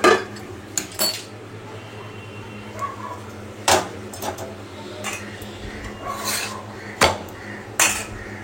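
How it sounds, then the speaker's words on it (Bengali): Kitchen work while roti is made and a potato and pointed gourd curry cooks, with sharp clinks of metal utensils against pots and pans at irregular intervals over a low steady background, no talking. "একদিকে রুটি করছি, আর এদিকে হচ্ছে আলু পটলের চচ্চড়ি।"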